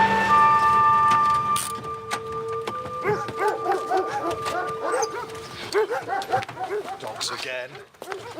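Several dogs bark in scattered, repeated bursts at mid distance, some yelping, after a steady tonal background that fades out early on.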